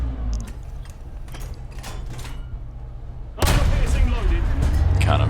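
War Thunder tank battle featuring a Centurion Mk.3, with a heavy cannon blast suddenly booming out partway through after softer distant shots, followed by a loud rumbling roar.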